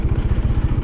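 A Royal Enfield Himalayan 400 motorcycle engine idles up close with a steady, loud, low thumping pulse.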